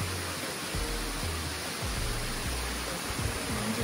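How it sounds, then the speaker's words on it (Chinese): Small waterfall beside a suspension bridge on a mountain trail at Taipingshan, Yilan, heard as a steady, even rush of falling water with faint low thumps underneath and no talking. "然后上面有个小瀑布"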